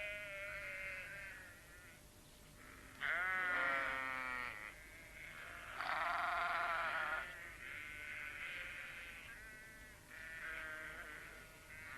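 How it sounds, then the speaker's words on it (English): Several sheep bleat one after another, some loud and near, others softer, with wavering calls overlapping across the flock. "The sheep were glad to see them."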